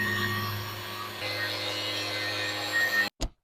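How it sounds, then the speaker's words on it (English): Steady mechanical grinding with a constant motor hum, like a power sander working continuously, loud and close, then cutting out with a brief final burst. "What I'm doing is just sanding down this side right here"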